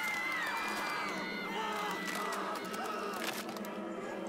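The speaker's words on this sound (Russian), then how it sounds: "толпа школьников вокруг нее зашумела, разразилась свистом и гневным рыком" A crowd of schoolchildren in the video game Tiny Bunny clamors in a dense, steady wash of shouting and babble with scattered whistle-like tones, continuous and fairly loud throughout.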